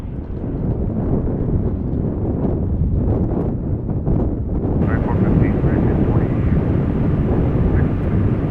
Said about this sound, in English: So we're getting an A321 arrival.